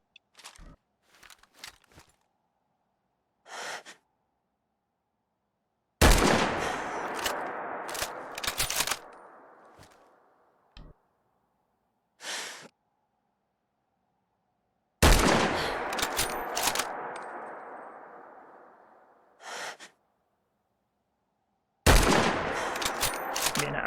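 Bursts of weapon fire in Fallout 4, several sustained volleys of rapid shots, loud and close, separated by short single shots and quiet gaps, with a decaying tail after each burst.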